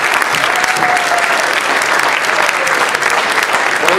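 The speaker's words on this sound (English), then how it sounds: "Let's give them a round of applause." Audience applause at a high school basketball senior roast: loud, dense, continuous clapping from a crowd, sustained evenly with a few faint voices mixed in.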